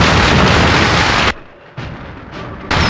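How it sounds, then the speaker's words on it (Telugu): Firecrackers and bombs exploding in a dramatic action film climax: loud, dense broadband blasts roar continuously, briefly dropping to a lull before bursting back in repeated heavy booms. "ఇక్కడ రకరకాల టపాకాయలు బాంబులు పేలుతున్న చప్పుడు వింటున్నావా?"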